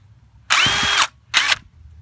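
A DeWalt DCF886 brushless impact driver runs in two loud, close bursts: a longer high-pitched whine of about half a second, then a shorter one after a brief pause.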